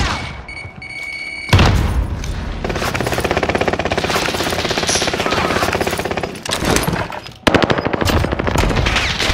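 Rapid automatic gunfire in an online shooter game, with long loud bursts of shots and booms, a brief pause, then another burst.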